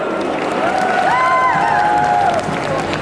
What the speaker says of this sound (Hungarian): Gratulálunk, nagy tapsot!